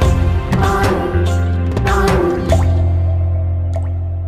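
Single water drops fall one at a time in a slow, uneven rhythm, a few clear plops and drips standing out over a steady musical drone.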